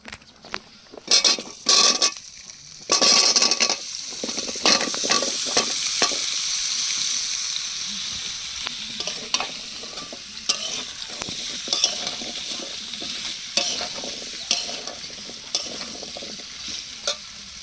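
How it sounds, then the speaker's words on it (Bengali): Chopped giant taro is stir-fried in a pan with browned, chopped garlic: a loud, steady sizzle with repeated scraping and clattering stirring strokes close up, and no voices. "এবার কেটে রাখা মান কচু দিয়ে কচিয়ে নেবো"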